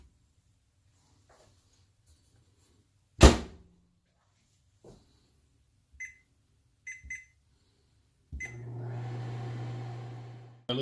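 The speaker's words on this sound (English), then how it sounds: "we have to put this back in the microwave again for 2 more minutes." A microwave oven heating a bowl of peanut butter fudge: a door slams, keypad beeps chirp a few times, then the oven starts with a steady, close hum.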